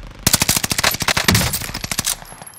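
Automatic gunfire from a video game rips out in a fast, even burst of about two dozen loud, close shots, with a short pause midway before the firing resumes and then stops.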